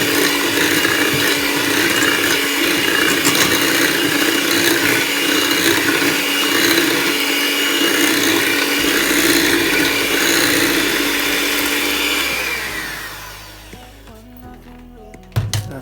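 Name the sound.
blender blending plantain, egg, vanilla, butter and sugar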